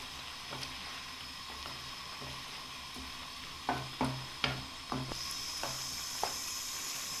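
Onions frying in a pot for chicken biryani, a constant close sizzle with several sharp scraping stirs of a spoon against the pan partway through.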